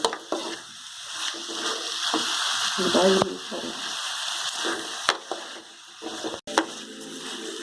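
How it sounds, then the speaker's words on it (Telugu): Bitter gourd and tomato fry in a pan for a village-style dish, giving a steady loud sizzle with occasional scraping and stirring clatters; a brief cut and a few knocks break the hiss. "ఇలా బాగా మెత్తగా బాగా వేయించుకోవాలండి"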